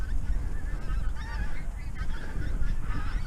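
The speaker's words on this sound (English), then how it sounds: "More geese coming in, making a racket." A flock of geese flying in over a flooded tidal river path on the Northumberland coast honks in a busy, overlapping chorus, repeated calls close and loud over a low wind rumble.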